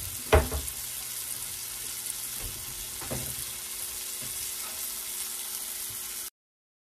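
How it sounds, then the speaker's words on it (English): Onions, garlic and mushrooms sizzling in a pan for beef stroganoff, a steady hissing fry broken by a few sharp clanks of a utensil near the start and middle, close and moderately loud, then cutting off abruptly. "I'm just going to add some onions, garlic, and mushrooms to the pan and deglaze it with some red wine"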